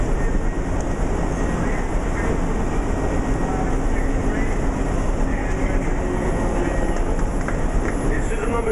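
Loud, constant rumble and rattle of a New York number 7 subway train in motion, with a steady high whine throughout.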